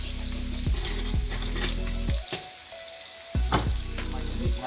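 Scallops hitting a hot pan and sizzling one by one, each placement bringing a fresh crackle over a steady frying hiss, close and clear with faint clinks between.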